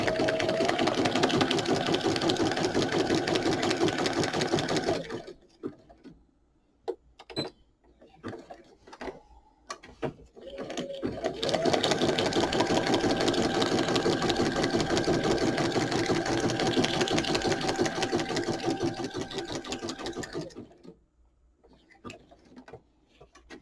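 A sewing machine runs a zigzag stitch in two long bursts of rapid, even mechanical chatter, separated by a quiet pause with a few clicks and handling noises, then stopping at the end.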